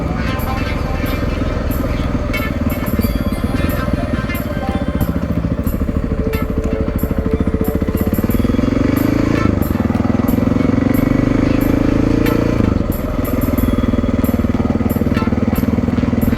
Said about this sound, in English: this motor's working pretty good